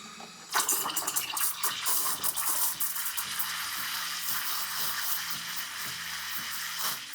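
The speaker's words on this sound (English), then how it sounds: "It's smarter to start off this way a little deeper, making the screeching sound" Steady hissing and screeching of a DeLonghi Magnifica S espresso machine steam wand frothing milk, loud and continuous with a faint low rhythmic hum beneath it.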